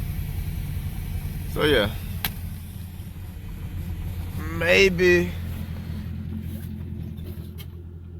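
A Ford S197 Mustang project car's engine idles with a steady low rumble throughout, while someone speaks briefly in two short bursts over it.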